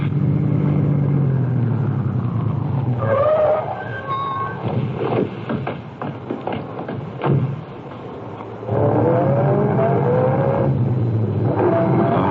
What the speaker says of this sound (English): I shall stop the car now and let you off.